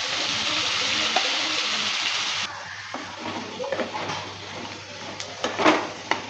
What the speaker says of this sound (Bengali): তিন থেকে 4 মিনিট সময় নিয়ে ভালো করে ওলটাকে একটু ভেজে নেব লাল লাল করে।